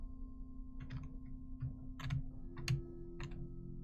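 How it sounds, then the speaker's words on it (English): Keys on a computer keyboard are tapped hard during a game of Undertale, a quick irregular run of sharp clicks close to the microphone over a faint steady hum. "you can hear my angry keyboard tapping left and right"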